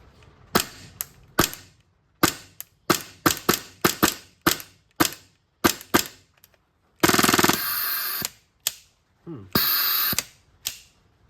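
AAP01 carbine being fired on full auto, delivering a string of sharp, close shots in short bursts and single pops with two longer sustained bursts, stuttering and uneven with gaps between.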